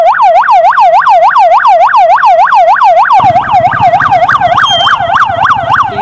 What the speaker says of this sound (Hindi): सड़क जाम की स्थिति में बाइक के सायरन को बजाकर यातायात को दुरुस्त किया जाता है